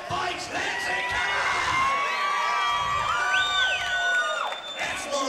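A dense crowd at a Lansing fight event, with title bouts on the card, cheers, whoops and screams in a continuous loud roar, with high shrieks and whistles rising above it throughout.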